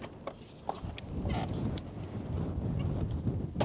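Strong wind buffeting a microphone in an open field at sugar beet planting time, a loud rumbling roar that swells and gusts throughout, with occasional thumps and no voices.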